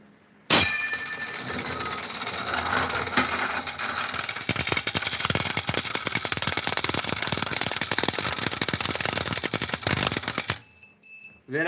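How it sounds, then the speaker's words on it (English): Electric gong bell ringing continuously for about ten seconds, a loud, steady, buzzing metallic clatter from a rapidly striking hammer, heard close up before it stops abruptly. "Now when I switch on the gong bell,"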